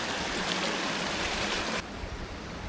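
A brook's flowing water, a dense steady rushing wash that stays loud and continuous throughout, with a sudden drop in brightness partway through and no voices.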